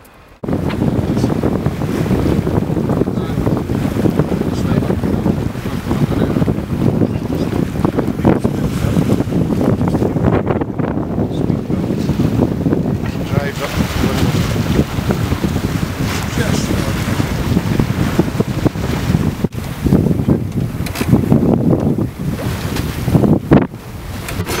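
A sailing boat at sea, with a steady, loud rush of wind and waves lasting throughout and gusts buffeting the microphone.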